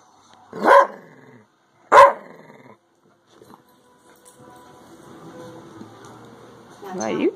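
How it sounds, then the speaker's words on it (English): Two loud, sharp barks from a nearby pit bull spaced about a second apart, followed by quieter whimpering and a final bark. "Do you know why you're barking"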